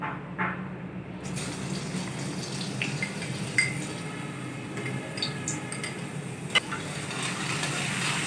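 Garlic ginger paste frying in hot oil, a soft steady sizzle with occasional stirring scrapes and faint clinks, close and fairly quiet, no voices.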